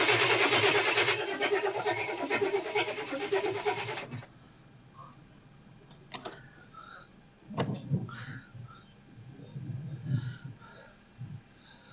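A car engine with a freshly tightened exhaust cranks, then runs with a loud rough roar for several seconds before it cuts off, followed by quiet clanks and faint voices.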